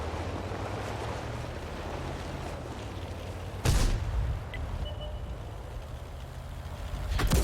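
Artillery fire in the tank game World of Tanks: two sharp, booming blasts, one midway and one at the end, over a low rumbling engine and ambient bed.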